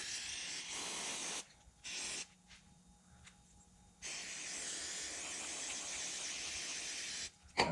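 An aerosol cleaner hisses in long, loud bursts onto the outside of a Yamaha Grizzly 125 carburetor, close up, with a few short pauses between sprays and no talking.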